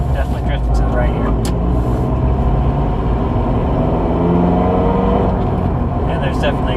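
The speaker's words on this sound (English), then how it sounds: "And there's definitely exhaust leak." A Mazda NB Miata with a rebuilt 6-speed transmission and an exhaust leak drives along, its engine droning loud and steady from inside the cabin at road speed, with a voice talking over it.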